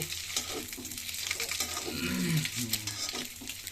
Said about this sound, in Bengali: এই ডিম ভুনা করতেছি সকালবেলা